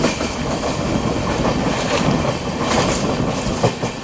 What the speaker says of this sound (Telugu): ఒక 20 నిమిషాల హాల్ట్ తర్వాత మన ట్రైన్ తిరిగి బయలుదేరింది